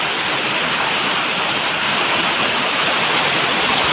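Small waterfall pouring steadily, a loud, dense, unbroken rush of flowing water close by with no voices over it.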